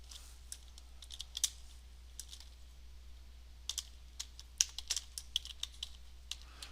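Computer keyboard typing in quick, irregular clusters of light clicks, near and fairly quiet over a low steady hum.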